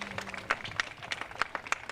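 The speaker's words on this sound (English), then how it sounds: "We want to give you a big round of applause for everything everybody has done." Scattered clapping from an audience at a women's suffrage historical marker dedication, several distinct claps standing out from a thin, uneven patter, moderately close, with speech mixed in.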